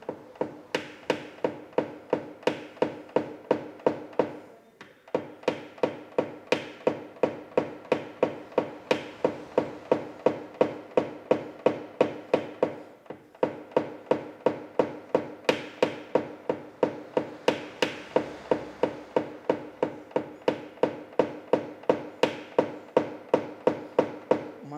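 A paintless dent repair hammer taps a car body panel in quick, regular strikes, close and crisp, forming long steady runs with brief pauses between sequences.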